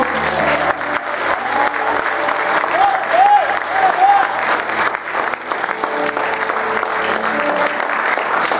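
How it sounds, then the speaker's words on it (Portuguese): A church congregation applauds loudly during a sermon, a thick wash of clapping that runs steadily throughout, with a faint voice or tone rising briefly in the middle. "Pode aplaudir o Senhor."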